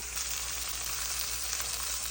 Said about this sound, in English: We got it sizzling.